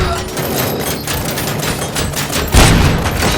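Police and gang gunfire during a bank heist in Robocop: Rogue City, steady rattling shots with a louder burst toward the end, mixed with shouted voices in the background.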